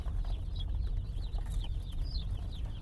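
Day-old chicks on a small chicken farm in winter, a dense flock peeping continuously with many overlapping high chirps, moderately close, over a low rumbling background.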